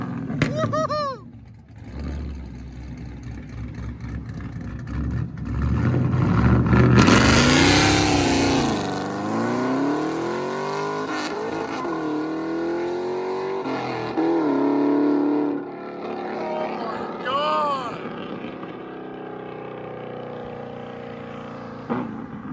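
A Chevy Camaro SS with a 6.2L V8 and an aftermarket exhaust revs hard several times, each loud rising roar falling back to a rumbling idle, while people shout and cheer nearby.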